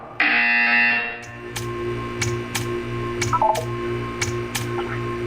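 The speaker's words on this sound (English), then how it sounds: "You will hear a buzzer. When you hear the buzzer, stare at the art." A buzzer in the video game Portal 2 sounds in the test chamber: an opening tone, then a series of short, sharp electronic beeps at steady intervals over a low mechanical hum, with no speech.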